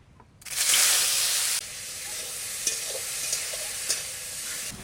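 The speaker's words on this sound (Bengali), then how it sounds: "আলু ভাজা হয়ে গেছে" Potatoes rubbed with salt and turmeric fry in a little mustard oil in a wok, a loud steady sizzle that surges as they go in, then settles into a constant hiss with a few brief stirring clicks.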